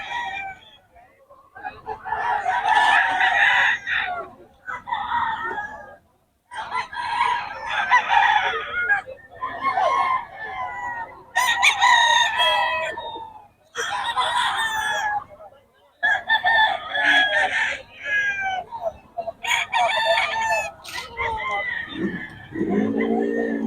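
Several roosters at a market crow repeatedly in overlapping calls, loud and close, with brief pauses between bursts and some clucking mixed in.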